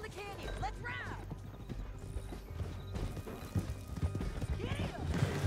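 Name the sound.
horse hooves galloping down the canyon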